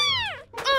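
A cartoon stray cat gives two clear meows, the first a long falling cry and the second a rising one after a brief gap, loud and close.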